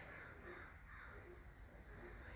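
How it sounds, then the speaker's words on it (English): Faint, distant cawing from a crow, several harsh calls in a loose rhythm over a low outdoor rumble. "I can hear a crow"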